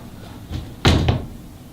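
A water closet or shower door thuds once at close range with a short knock-like rattle after a faint creak, the room otherwise quiet.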